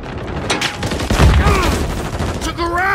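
Rapid bursts of gunfire in the Call of Duty Modern Warfare III beta, loud and dense, close shots mixed with background combat, with voiced game callouts and rising tonal effects near the end.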